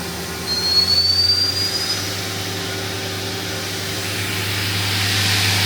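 A Mori Seiki NTX1000 5-axis dual-spindle CNC lathe spindle runs at top speed with a steady mechanical whine and airy rush. A brief rising tone sweeps up early and the noise swells slightly toward the end.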